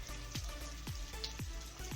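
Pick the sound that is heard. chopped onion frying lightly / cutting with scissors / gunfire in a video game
chopped onion frying lightly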